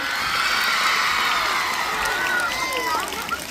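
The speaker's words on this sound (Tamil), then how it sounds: "அந்த தங்கங்களுக்கு ஒரு முறை கைத்தட்டல் கொடுங்க நல்லா ஜோரா." Children at a government model higher secondary school Tamil literary society festival cheer and shout loudly as a crowd, with a sustained mix of excited voices and whoops and only light clapping.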